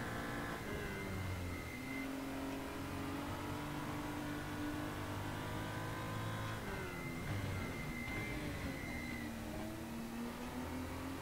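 A race car engine in RaceRoom Racing Experience revving up gradually, harmonic whine rising slowly, dipping, then climbing again, loud and steady with no talk.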